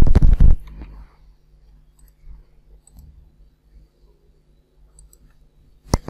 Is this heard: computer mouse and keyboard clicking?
yes